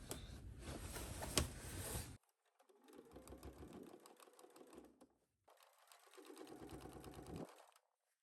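A sewing machine with a zipper foot stitching a fly front zipper on pants, three runs of steady rapid whirring, the first louder, separated by brief pauses.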